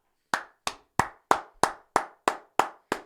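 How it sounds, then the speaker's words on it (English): Nine slow, evenly spaced hand claps from a single person, close and crisp with a short decay after each, in a steady deliberate rhythm and no other sound between them. "you deserve a round of applause"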